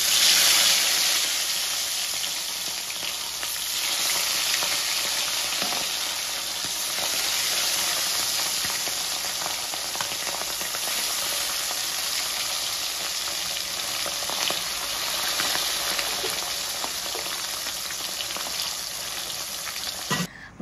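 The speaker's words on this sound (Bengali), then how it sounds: "মাছ ভাজতে দিয়ে আমি চলে গেছিলাম পুরো ওই ঘরে।" Pabda fish frying in hot oil gives a steady, loud, broadband sizzle that runs unbroken throughout, with no voices over it.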